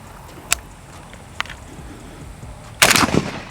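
An AK rifle fitted with a prototype 24mm Unrivaled muzzle brake, fired outdoors in a few short distinct shots, then a louder sharp blast near the end that rings out briefly.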